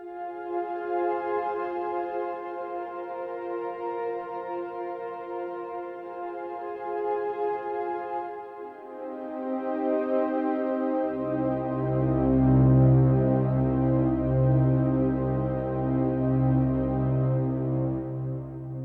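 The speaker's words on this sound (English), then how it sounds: "we will be designing a Lush Strings sound in Ableton Drift that sound like this" Lush synth strings patch built in Ableton Drift, playing sustained layered chords that swell and shift, with a deeper, fuller bass register entering partway through and ringing on to the end.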